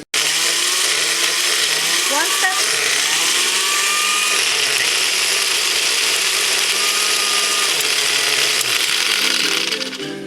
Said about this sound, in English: run through a blender.